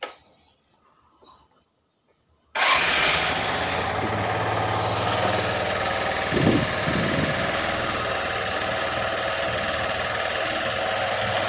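A Suzuki Skydrive scooter engine, just repaired after stalling and refusing to run, catches abruptly after a brief quiet start and settles into a steady, loud, close idle with a few small revs.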